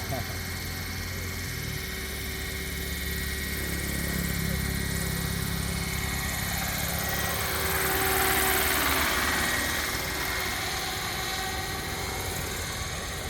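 An Apache size 700 RC helicopter on a 12-cell battery drones loudly and steadily, its rotor and motor whine holding a constant pitch and swelling slightly near the end as it prepares to land.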